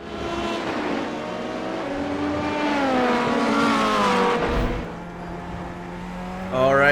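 A Corvette C8.R race car in iRacing at Road Atlanta, climbing over the last hill on the final lap: a loud, steady engine drone with rising and falling pitch through gear changes, and a sharper rev at the end.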